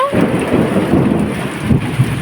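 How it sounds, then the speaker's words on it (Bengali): Thunder rolls in a long, loud, continuous rumble through steady heavy rain during a summer downpour, with no voices. "মেঘও ডাকছে"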